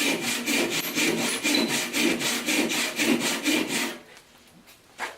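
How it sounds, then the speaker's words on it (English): An inexpensive small handsaw rips through 1-inch thick oak in quick, even back-and-forth strokes, a close rasping scrape that pulses about a dozen times before stopping, followed by a faint knock. "properly set teeth, properly filed, this saw is a fantastic cutter"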